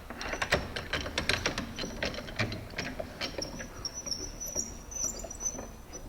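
Traveling valve of a downhole rod pump being tightened back up, a series of quiet, irregular metallic clicks and ratcheting taps close by, with faint scraping in between.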